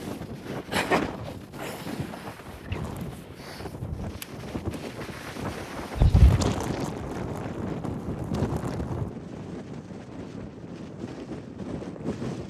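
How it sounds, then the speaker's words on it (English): Strong wind buffets the microphone outdoors at a cabin in Wales, a continuous loud roaring rush with gusts swelling and fading, one heavy blast midway. "Oh, it's so windy"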